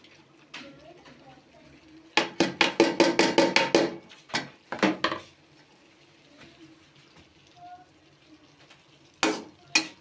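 Boiled mash dal being mixed into beef qeema in a cooking pot, a quick series of loud metallic spoon clanks and scrapes against the pot, then a few more later, over soft background sizzle.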